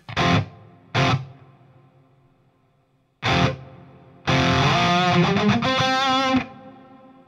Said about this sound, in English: listen now only the reverb, you have the tone to tweak the reverb to get it really dark.